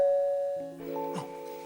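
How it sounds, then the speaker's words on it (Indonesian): A doorbell rings inside a house with a tonal ding-dong chime that sounds a bright tone and then a fuller ringing chord, fairly loud and close, with no talking over it. "Mon, bel berbunyi."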